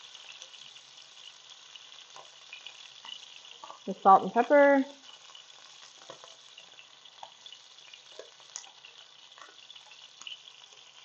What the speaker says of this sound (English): we got good sizzle going on